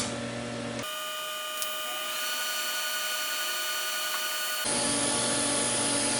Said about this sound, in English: these small welds that I'm putting on like this seem to work fine